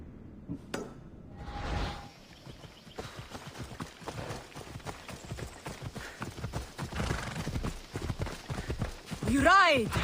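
Horse hooves clip-clop at a gallop in Assassin's Creed Odyssey, with a whinny near the end and a voice speaking over the riding.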